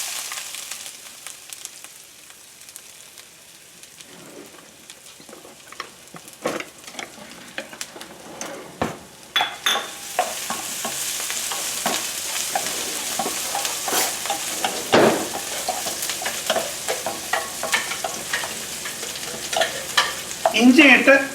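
Ginger is dropped into hot oil in a pan where mustard seeds have already popped, while cooking a shrimp curry. It gives a steady, close sizzle with stirring scrapes and crackles that build and grow louder toward the end, and no one speaks.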